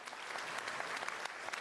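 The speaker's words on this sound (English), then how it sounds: "Can we please give them a round of applause?" A crowd applauding at a grand opening of the Brooklyn Nets training facility, dense close clapping that fills the whole short moment at even loudness.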